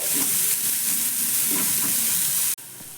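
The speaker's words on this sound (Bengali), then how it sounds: "পেঁয়াজটাকে একটু নাড়াচাড়া করে হালকা ভেজে নিতে হবে।" A medium chopped onion is stirred and lightly fried in a pan, giving a loud, steady sizzle with soft scraping strokes that stops abruptly near the end.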